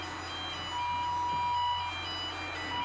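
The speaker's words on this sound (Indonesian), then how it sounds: "Setelah hidup, kita boleh mematikan alarmnya." An alarm beeps in a steady high electronic tone after the engine of a Favelle Favco 200R pedestal crane starts, sounding over the engine's continuous low hum and drone.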